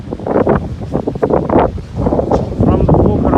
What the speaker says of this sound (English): The very strong flow of wind is not allowing me to speak.